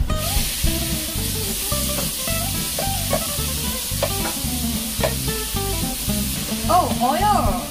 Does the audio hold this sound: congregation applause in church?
no